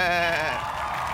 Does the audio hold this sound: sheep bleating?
yes